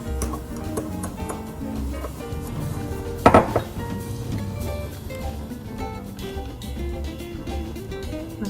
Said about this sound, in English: So you mix in the sugar with the eggs.